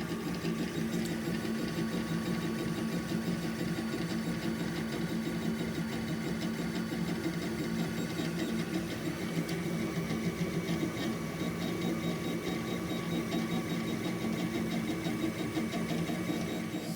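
A 3D printer runs steadily while printing cookie cutters, its motors giving a continuous mechanical whir with a faint tonal hum and rapid stepping texture, close and unbroken.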